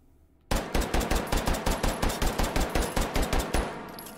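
Glock 17 9x19mm pistol fired from a 17-round magazine in the VR shooter H3VR, a rapid string of about sixteen sharp, evenly spaced shots starting abruptly after a short quiet, loud and close, with no voices.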